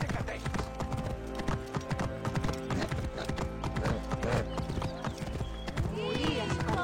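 Hooves clip-clop steadily in a video game as a horse moves along, the rhythm running under continuous talk and a dense bed of game sound.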